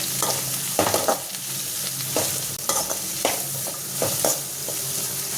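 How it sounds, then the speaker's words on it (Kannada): Onions and curry leaves fry in a pan, a steady close sizzle broken by repeated scraping stirs at a fairly even rhythm, with no one talking. "ಈರುಳ್ಳಿನ ಸ್ವಲ್ಪ ಫ್ರೈ ಮಾಡ್ಕೊಳ್ಳೋಣ. ಜೊತೆಗೆ ಸ್ವಲ್ಪ ಕರಿಬೇವಿನ ಸೊಪ್ಪು"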